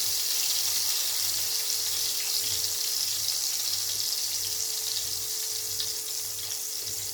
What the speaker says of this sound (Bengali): গ্যাসটা ধরিয়ে কড়াই বসিয়ে দিয়ে তেল দিয়ে মশলা দিয়ে দিচ্ছি।